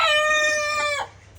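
A hen on a backyard flock that has been laying eggs gives a loud, close, drawn-out vocal call lasting about a second, with a strained harmonic tone, then it cuts off to quiet background.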